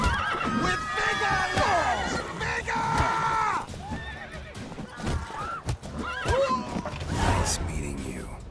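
Horses neigh and whinny repeatedly with clip-clopping hooves in The Witcher 3 video game, fairly loud and mixed with game sounds and a voice.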